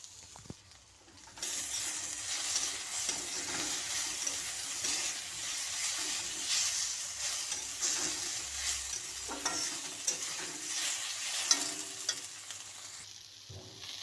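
Crushed garlic sautéing in a pan sizzles softly at home, with spatula stirring and scraping. A faint hiss runs steadily after a quiet start and no one talks.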